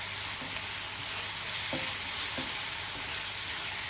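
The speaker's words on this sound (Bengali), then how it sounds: "তো এটা একটুখানি হালকা সতে হচ্ছে" Onions sauté in oil in a pan for pav bhaji, giving a steady, close sizzle with a few soft stirring scrapes breaking through.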